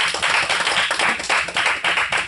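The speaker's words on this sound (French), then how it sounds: "Est-ce que tu peux acclamer pour le Seigneur?" A church congregation claps in a loud, rhythmic, sustained beat, with many hands together filling the space, as worshippers acclaim the Lord.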